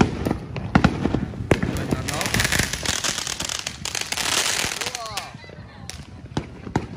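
Fourth of July fireworks and firecrackers going off, a rapid irregular burst of sharp cracks and pops with crackling hiss, loud and nearby, while people talk excitedly throughout.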